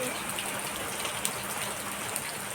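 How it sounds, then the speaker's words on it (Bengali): Heavy rain falling in a steady, dense hiss of countless drops with occasional sharper splashes, continuous and even, no voices over it. "দেখো, তখনকার তুলনায় এখন বৃষ্টি আরও বেশি বেশি হচ্ছে"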